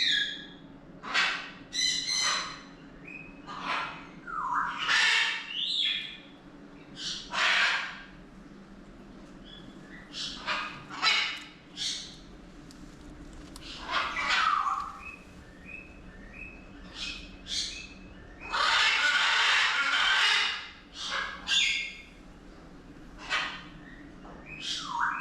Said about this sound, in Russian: Это павильон с шумными попугаями.